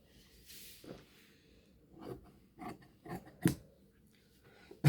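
Scissors cut cloth for a lined kameez in a series of separate crisp snips, close and fairly quiet, with brief pauses between cuts.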